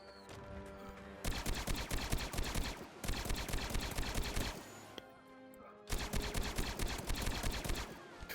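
Star Wars mod blaster weapons firing in Blade and Sorcery, loud rapid bursts of automatic fire in two long volleys separated by a brief pause.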